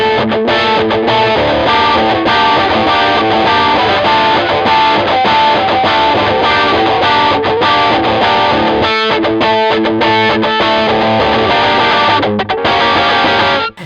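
A heavily distorted electric guitar through a blues overdrive pedal with gain turned all the way up strums chords with thick, saturated gain, loud and continuous throughout with only brief pauses.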